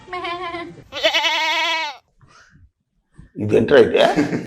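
A voice makes a drawn-out bleating, braying call to imitate a donkey, with other voices talking around it.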